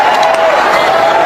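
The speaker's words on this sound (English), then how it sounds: "Listen to this crowd going wild" A tennis crowd at the Philippine Open roars and cheers wildly, a loud, sustained wash of voices with a rising shout running through it and no break.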